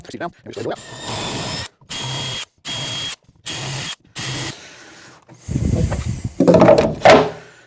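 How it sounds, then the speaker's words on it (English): A power drill bores holes in a wooden corner cabinet in four loud, close bursts of even length with short pauses between them, then rougher drilling and handling noises follow. "we'll go ahead and finish drilling them on out"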